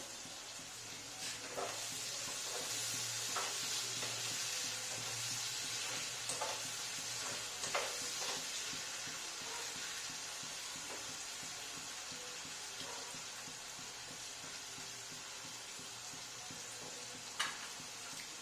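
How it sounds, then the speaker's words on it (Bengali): Pieces of bhetki fish frying lightly in a pan, a faint continuous sizzle and hiss with occasional soft stirring clicks and taps, steady throughout with no talk. "ভেটকি মাছ তো নরম মাছ সেই জন্য আমি আগে এগুলো ভেজে নিয়ে এইবারই ভেটকি মাছের পিসগুলো দিয়ে"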